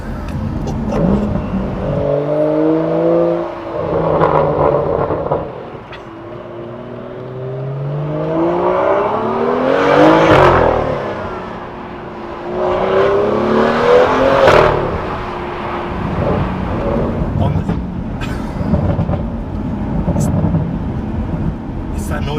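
A BMW M2 fitted with a full iPE exhaust revs hard in several loud, rising bursts with deep crackling roars, close by, with people talking between the revs.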